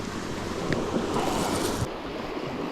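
Tide waves wash steadily at a seaside fishing spot at Gertak Sanggul, a continuous broadband surf rush mixed with wind noise on the microphone, fairly close and loud.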